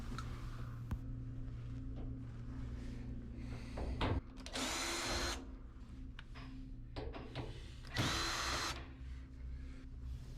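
A power drill driving out the screws that hold the bulkhead to the frame of a Samsung dryer whose drum won't turn, two loud whirring bursts standing out over a steady background hum, with smaller clicks and handling noises between.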